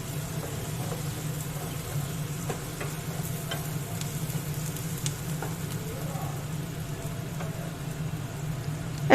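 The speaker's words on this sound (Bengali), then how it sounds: "এবার পেঁয়াজটা একটু ভালো করে ভেজে নিচ্ছি।" Two large chopped onions fry steadily in a pan for a Bengali-style ghugni, giving a continuous soft sizzle at close range with small clicks of stirring throughout and no talk over it.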